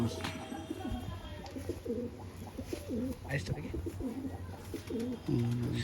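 Pigeons coo softly in repeated low, rolling phrases at a pigeon fancier's home, with someone talking over them and faint background hum.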